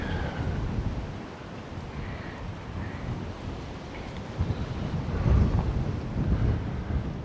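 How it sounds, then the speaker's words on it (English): Steady, heavy wind buffeting the microphone with low rumbling gusts that swell louder toward the end; no voices. "But yeah, it's quite windy today."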